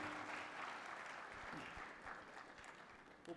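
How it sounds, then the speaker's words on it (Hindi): An audience in a hall at a Ramayana festival breaks into sustained clapping, a dense, even wash of applause that carries on steadily and fades a little toward the end. "एक बार पूरा सदन तालियां उठाएं"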